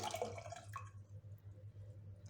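Three cups of water are poured into a pot holding two and a half cups of sugar for syrup. A brief splashing pour comes at the start, then only a low, steady hum remains.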